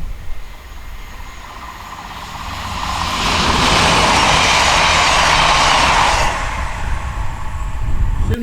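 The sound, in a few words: Cross Country Voyager train passing at speed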